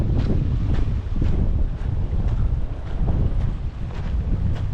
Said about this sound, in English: Every day it's windy,